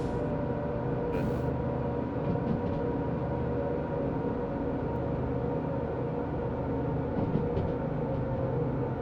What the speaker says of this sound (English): Dynamic brakes are enough to hold this train back despite the hill behind us.